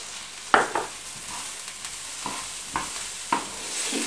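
Fishcake spices are stirred and fried in a pan: a low sizzle runs underneath while a handful of short scraping stirs land at irregular moments, close and fairly quiet, with nobody speaking.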